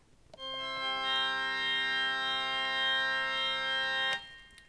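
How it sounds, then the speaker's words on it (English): A dominant seventh chord on C sounds on a Tonal Plexus microtonal keyboard, a steady sustained chord of clear tones held for about four seconds, fading in slightly at the start and cutting off cleanly, alone without voices. "Here's a dominant seventh chord on C."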